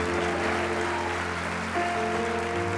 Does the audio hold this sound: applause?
yes